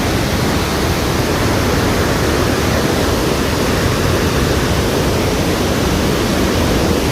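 The Bhunsa river flowing below a steep, difficult mountain path in Nepal, a loud, continuous broadband rush that holds steady throughout with no speech.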